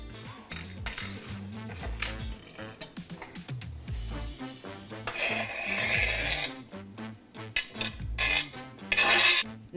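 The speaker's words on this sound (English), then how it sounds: "Now, next thing we want to do is dump in our artichokes." Artichokes being dumped into melted cream cheese for a spinach and artichoke dip produce close, uneven scraping and rasping from a utensil against a pan, with wet stirring and clattering bursts.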